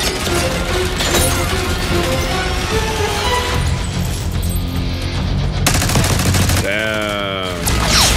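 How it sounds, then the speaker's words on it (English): Heavy minigun fire rips through a Call of Duty: Black Ops 6 game scene in a dense, continuous loud barrage of shots and crashes, with voices faintly under it and a descending whine near the end. "Stay low until that minigun stops spinning."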